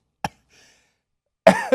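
A single short cough comes first, followed by a pause and then a louder cough that runs into a voiced, throaty burst, close and alone.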